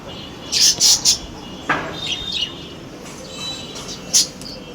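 Bursts of high, scratchy baya weaver chirping near their nests come in quick clusters against a hissy background, with a few scattered shorter calls.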